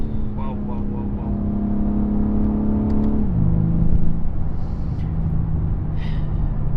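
A BMW M3 Competition G80 engine droning steadily as the car pulls along a mountain road, its pitch holding then dropping around a gear change, with a continuous close, loud cabin rumble and no talking.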